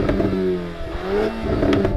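A VW Golf R engine revs during a stationary sound check, a steady loud rumbling tone that rises and falls slightly with grumbly exhaust texture, with no talking.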